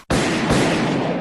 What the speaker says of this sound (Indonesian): Kok kayak ada suara tembak-tembakan?